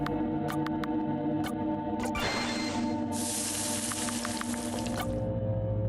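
A locked door being melted in a video game, a sustained bright hissing spray with scattered dripping and sizzling clicks, steady and close, with a harsher hiss surging in partway through.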